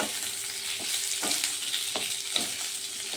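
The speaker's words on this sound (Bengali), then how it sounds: "ভাজি হয়ে গেছে, আমি এখন তেল থেকে তুলে নিতে পারবো একটা একটা করে।" Cauliflower dhokla pieces and potatoes fry in hot oil with a continuous bright sizzle and crackle, marked by a few soft periodic clicks as pieces are stirred or lifted, and no voices.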